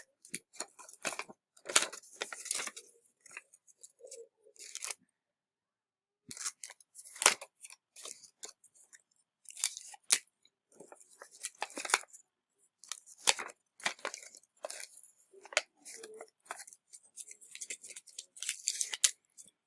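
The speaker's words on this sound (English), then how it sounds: "So I'm going to tape my box together." Scotch tape being pulled and torn to tape a cardboard box together, heard as bursts of sharp ripping and crinkling separated by short silences, close and fairly quiet.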